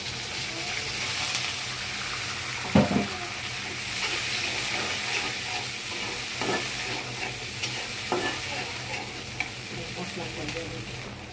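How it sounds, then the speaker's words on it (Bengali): Onions fried until reddish in a pan sizzle steadily as garlic paste goes in, with a few stirring knocks and scrapes breaking through the constant crackling hiss. Nobody speaks. "পেঁয়াজ লাল লাল করে ভেজে নিয়েছি। কিছু রসুন বাটা দিয়ে দিব।"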